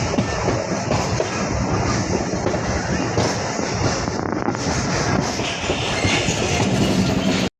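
The Barendra Express pulls out of Hili railway station, heard from on board as a loud, continuous rumble with rhythmic wheel clatter and rattling carriages until the sound cuts off abruptly.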